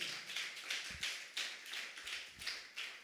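Congregation clapping hands during a church service: sharp hand claps recur in a brisk steady rhythm, several hands overlapping, moderately close, with no talking over them.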